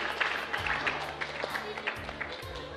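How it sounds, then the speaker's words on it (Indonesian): Scattered clapping from a small group of children, uneven and moderately close, with a low hum and background murmur underneath. "Tepuk tangan."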